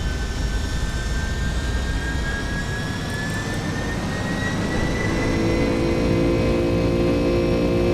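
Twin jet engines of a Boeing 757 in X-Plane 12 spool up to takeoff thrust, a steady loud roar with rising whine tones that swell toward the end.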